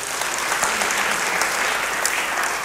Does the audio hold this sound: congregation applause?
yes